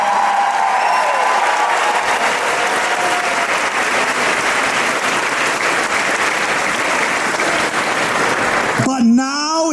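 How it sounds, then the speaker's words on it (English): A large convention audience at Comic-Con Scotland gives a long, loud, sustained round of applause with cheering mixed in, dense and unbroken for nearly ten seconds before a voice cuts in at the very end. "Can we have a massive round of applause for all our sensational"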